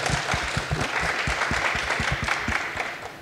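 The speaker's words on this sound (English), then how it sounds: "let's give a round of applause to our panelists to join us today" An audience at a mobile marketing conference applauds the panelists, with a burst of steady clapping from a modest crowd that tapers slightly toward the end.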